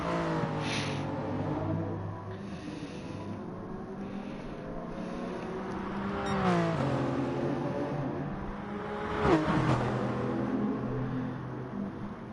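Lexus and Toyota Supra race cars battle up a hill on the Dragon Trail circuit in an endurance racing video game, their engines droning steadily with harmonic whine and shifting pitch during upshifts, loud and continuous with no talk.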